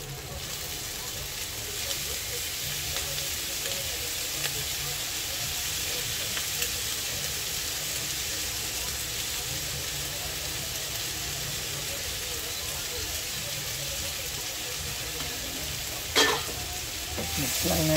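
A tofu sisig mixture with mayonnaise, oyster sauce, soy sauce, calamansi and liver spread is stirred in a hot pan, giving a continuous loud sizzle and scraping, with a sharp clatter near the end.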